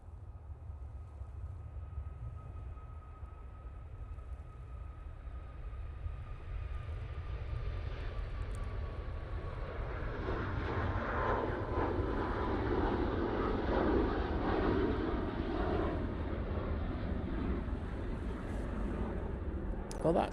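A Ryanair airliner takes off at Manchester Airport, its distant jet roar swelling gradually from a faint whine into a broad, louder rumble that holds toward the end, with people talking nearby.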